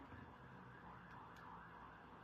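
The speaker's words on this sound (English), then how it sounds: "Oh, you hear those sirens, y'all?" Faint sirens wail in the distance over a low, steady background rumble.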